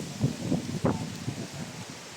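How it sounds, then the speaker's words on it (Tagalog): Gusty wind buffets the microphone in uneven bursts on a mountain, with rustling and low rumbling throughout. "Yan mga idol, sobrang lakas ng hangin."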